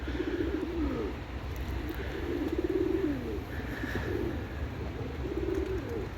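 Tumbler pigeons cooing in repeated low rolling calls, fairly close, over a steady outdoor rumble and faint wind.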